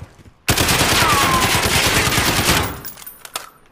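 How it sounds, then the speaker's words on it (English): Loud, rapid bursts of gunfire crackle continuously for about two seconds, then trail off into scattered distant shots, in the video game Call of Duty. "I hear gunshot."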